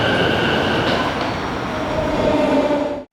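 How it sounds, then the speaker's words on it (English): Steady rumble of a Tokyo metro train carrying riders across central Tokyo, loud and continuous with rail noise and faint wheel squeal, no voices. "Back to the hotel on the metro, again from one side of central Tokyo to the other."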